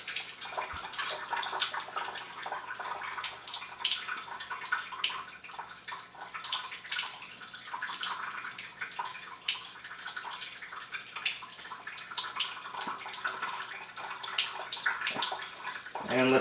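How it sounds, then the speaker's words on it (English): Alkaline water splashes and trickles into a sink as a cup is rinsed, followed by sloshing rinse sounds, steady and close with small drips, with a voice heard faintly. "we'll dump this alkaline water out here and rinse out the cup a little bit"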